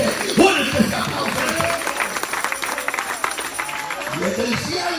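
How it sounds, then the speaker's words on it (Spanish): A church congregation applauds during a sermon in a steady wash of clapping and crowd noise, while a voice speaks loudly over it. "Fuerte ese aplauso."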